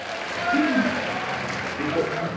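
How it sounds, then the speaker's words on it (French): Audience applause at a cosplay contest during a stage magic act at the Japan Impact convention, a steady wash of clapping under crowd noise, with voices talking over it throughout. "Applaudissez."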